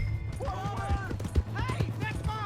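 Horse hooves clop in a quick, uneven rhythm during a Red Dead Redemption 2 scene, mixed with scuffling and other game sounds over a low rumble.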